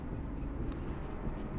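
Writing on a board during a physics lesson, a soft, continuous scratching stroke sound near the board with faint room noise.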